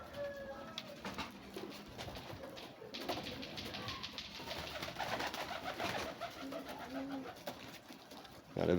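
Pigeons coo softly in low, repeated calls, fairly faint and somewhat distant, with other light bird sounds and occasional taps mixed in.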